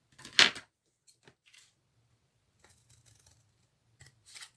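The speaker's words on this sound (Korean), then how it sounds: "2cm 정도씩 약간의 간격을 띄우고 오렸습니다" Scissors snip paper to make cuts for a handmade pop-up card, one crisp cut near the start followed by a few faint scattered snips and soft paper handling, with no talk.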